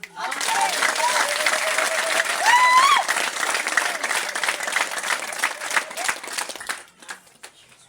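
A church congregation breaks into warm applause, dense sustained clapping that fades out near the end, with voices and a sung or spoken tone rising over it.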